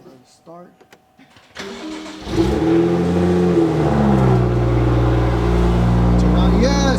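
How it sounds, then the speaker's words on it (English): A BMW M2 engine cranks and fires after a quiet pause, then settles into a loud, steady idle with a low rumble; brief speech and clicks come before the start. "Alright, we're gonna start the car."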